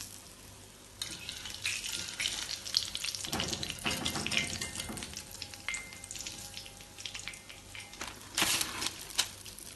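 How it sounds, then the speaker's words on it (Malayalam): Chicken pieces for chicken dynamite deep frying in hot oil, a close crackling sizzle that swells louder as more pieces go in, with bursts of spitting and occasional stirring. "ബാക്കിയുള്ള ചിക്കൻ പീസസും കൂടെ ഇതേപോലെ ഫ്രൈ ചെയ്തെടുക്കാം"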